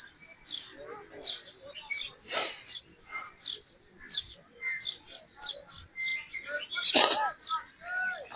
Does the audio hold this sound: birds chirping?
yes